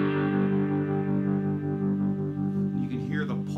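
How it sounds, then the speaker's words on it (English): A three-string cigar box guitar played through an Earthquaker Night Wire harmonic tremolo pedal and a combo amp, its sustained distorted chord pulsing steadily. Loud and close, with a brief trailing note near the end. "It is a harmonic tremolo, and it sounds like this."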